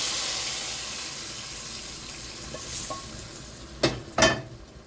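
Flat beans tossed into a pan of frying aubergine and potato curry, giving a soft steady sizzle followed by two sharp bursts of hissing and stirring near the end.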